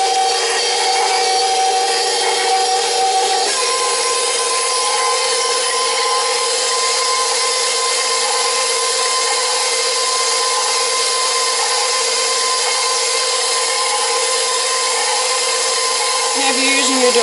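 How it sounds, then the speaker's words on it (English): A stand mixer fitted with a dough hook runs steadily, beating molasses oat bread dough with a constant loud motor whir that holds throughout, alone and close by. "I did change my attachment to the dough hook, so I'm just going to start it up"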